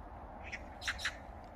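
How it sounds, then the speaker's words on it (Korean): Magpies squawk and chatter outdoors in a few short, fairly faint harsh calls over a low background rumble. "까치가 막 합창으로 노래를 부르네요."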